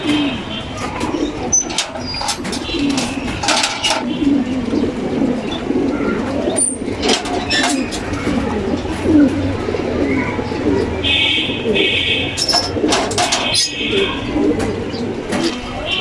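Several racing pigeons coo softly and repeatedly, a low burbling chorus close by, with occasional flutters and rustling in the background.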